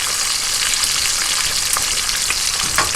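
Bacon frying in a pan makes a loud, close, continuous hissing sizzle with scattered pops and crackles, alone without any talk.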